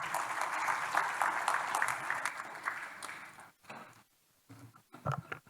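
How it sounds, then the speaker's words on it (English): An audience at a closing ceremony applauds with dense, steady clapping that fades out, followed by a few scattered claps and faint murmurs. "Can we give her a round of applause"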